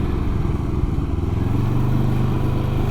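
A Can-Am Ryker three-wheel motorcycle rides along with a loud, close engine drone and low rumble, the pitch rising slightly as it pulls steadily ahead with no talking.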